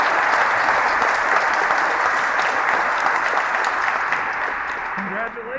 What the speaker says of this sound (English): Let's give Madison another round of applause.